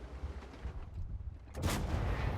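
A tank cannon fires in World of Tanks with a sharp, loud blast about two-thirds through, leaving a sustained boom over a steady rumbling engine and battlefield background.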